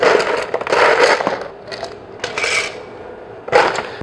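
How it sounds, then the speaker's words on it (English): Ice cubes tumble into a cocktail stirring glass for a stirred whiskey drink, in several loud, close bursts of clattering and crunching with short pauses between. "We're going to start by filling that with ice."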